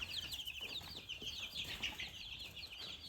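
Young barred chicks peep and cheep in a continuous high chorus close by in a farm brooder, with steady faint scuffling underneath and no talk.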